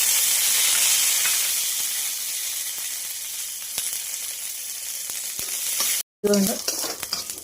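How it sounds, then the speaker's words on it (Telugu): Curry leaves and peanuts fry in hot oil, giving a continuous bright sizzle and hiss close by. The sizzle thins out over time, with scattered small pops, then breaks off briefly before a clattering stir. "ఈ కరివేపాకు పల్లీలన్నీ వేగినాయి"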